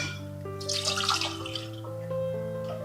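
A glass of water poured into a pan for cooking arrowroot powder, a brief splashing gush that fades into light trickling, heard over a steady electrical hum with no talk.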